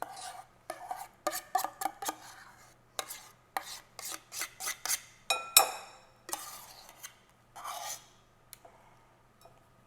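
Spoon scraping and clacking against a bowl while buffalo chicken dip is mixed, a close series of rhythmic rasping strokes with a sharper knock near the middle, then trailing off.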